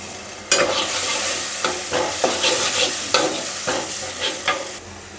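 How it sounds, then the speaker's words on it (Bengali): Ground coriander, cumin and turmeric frying in a pan give a loud, steady sizzle, broken by repeated scraping stirs of a spoon at irregular intervals, close and with no talking. "মশলাটা আর একটু ভেজে নিই।"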